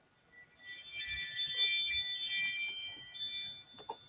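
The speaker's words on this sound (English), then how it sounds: "it was the one that sounds like chimes" A chime bell sounds as a dog named Honey goes out for her walk, a faint, ringing tinkle of overlapping metallic tones that lingers for a few seconds amid soft background rustle.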